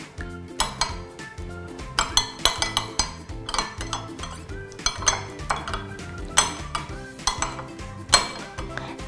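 A utensil mixing carpaccio dressing in a bowl, giving rapid rhythmic clinks and scrapes against the sides over about nine seconds, close and distinct, with no talking.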